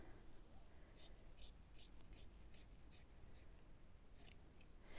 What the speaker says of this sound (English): So I'm just going to trim it quickly to be about the same width as my fabric.